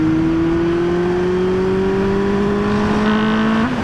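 A 2009 Honda CB400 Super Four 400cc four-cylinder motorcycle revs loud and close in one steady, rising high-pitched wail that drops off right at the end.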